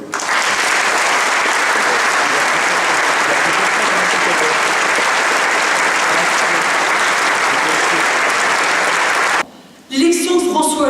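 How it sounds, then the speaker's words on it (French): Audience at a French political meeting breaks into loud, sustained applause, dense and even for about nine seconds before it cuts off and a voice starts speaking. "on peut aussi les applaudir."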